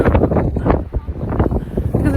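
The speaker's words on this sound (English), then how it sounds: "it's windy up here" Strong wind gusting across the microphone on an exposed mountaintop on Old Rag Mountain, a loud, continuous rumbling buffet with no talk.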